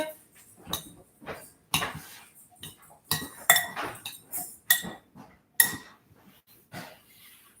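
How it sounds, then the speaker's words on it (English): A metal spoon clinks and scrapes against a bowl while ingredients are mixed together in a kitchen, producing sharp irregular clatters close by with no voices. "I need to find my spoon. As Mark would say, spoon. We go ahead and mix those together."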